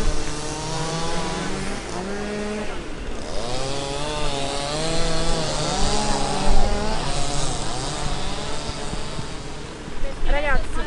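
A chainsaw cuts olive trees in an Italian countryside field, its engine revving and falling in repeated surges, loud and close, with some wind and occasional talk.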